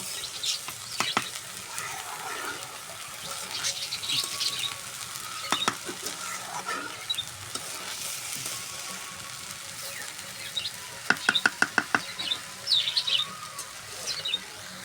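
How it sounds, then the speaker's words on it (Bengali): Pulao rice dry-frying in a pan, a soft steady sizzle broken by bursts of scraping stir strokes, with faint bird calls in the background. "পোলাও চালগুলো ভাজে নিব।"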